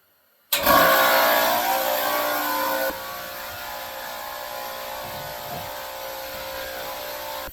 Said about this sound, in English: the air compressor is going to take a few minutes to build up pressure